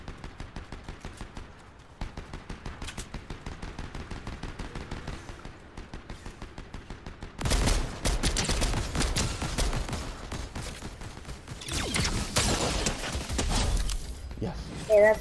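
Rapid bursts of gunfire in the Fortnite video game, dense and loud from about the middle onward, with scattered shots earlier under a person talking.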